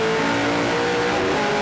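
Onboard a race car at the 2008 GP3R 100, the engine note runs continuous and loud, rising and falling as the car climbs through a clutchless gearbox in lapped traffic.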